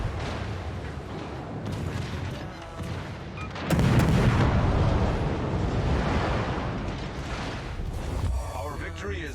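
Naval gunfire in a warship battle video game, a continuous rumbling barrage of heavy booms that swells sharply midway and stays loud, with a voice talking over it.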